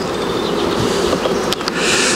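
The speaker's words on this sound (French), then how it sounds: "Les abeilles occupent la hausse déjà" Honeybees buzzing inside a beehive super, a steady dense drone close by that fills the whole moment, with brief rustling ticks partway through.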